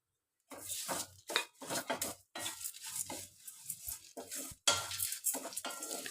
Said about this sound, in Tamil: டுவெண்ட்டி செகண்ட்ஸ் கேப்பில் ஒவ்வொன்றா போட்டு நீங்கள் வறுத்துக்குங்க